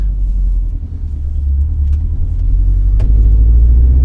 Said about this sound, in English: let's go on a drive and see how the coils feel